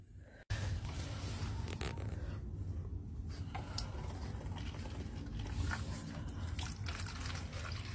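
Bottled water pours steadily into a dog's dish, a continuous splashing trickle that starts abruptly and runs close and fairly quiet to the end.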